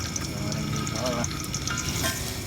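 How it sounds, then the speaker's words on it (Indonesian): Jengkol beans fry in hot oil at a bamboo-forest camp, a steady close sizzle with small bubbling bursts, and a voice talks faintly over it. "goreng jengkol"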